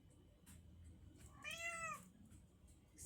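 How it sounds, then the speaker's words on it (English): A single clear cat meow rises and falls, close by, in an otherwise quiet room. "Excuse my cat."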